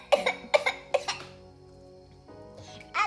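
A child coughs three or four times in quick, close bursts, then a short pause and the start of another cough.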